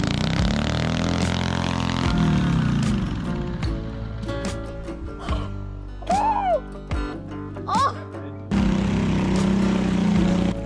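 A homemade mini tracked tank, a small Sherp-like vehicle fitted with a throttle cable and a plate under the rear, drives along with its small engine running steadily and revving throughout, in the open air.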